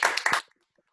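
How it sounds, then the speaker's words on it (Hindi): A short, loud burst of audience clapping at a Jain religious study gathering, lasting under half a second before cutting to silence. "जोरदार तालियां।"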